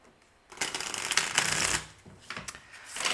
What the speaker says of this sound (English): I feel the need to shuffle.